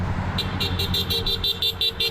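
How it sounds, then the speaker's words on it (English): A morning car rally in Mississauga, with a car horn honking in a steady repeated rhythm of short toots over the rumble of traffic and engines, loud and close. "In Mississauga, a car rally was held in the morning."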